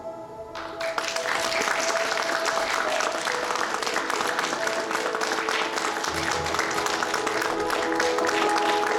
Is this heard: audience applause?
yes